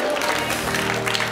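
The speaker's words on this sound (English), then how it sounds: "Come on, clap your hands and tell Jesus, thank you" A church congregation clapping hands during a sermon gives a brief, dense burst of applause, with a voice carrying over it.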